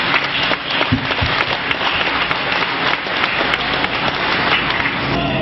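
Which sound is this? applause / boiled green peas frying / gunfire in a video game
applause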